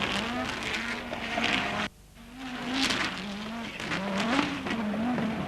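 Audi Quattro S1 rally car at the 1988 Race of Champions semi-final, engine droning with rising and falling pitch as tires skid on loose ground, cutting out briefly to near silence before resuming loud and close.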